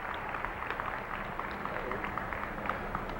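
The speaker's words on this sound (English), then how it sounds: "Good applause for the youngster." A crowd at a horse futurity event applauds a 13-year-old rider with steady, moderately distant clapping that holds an even level throughout.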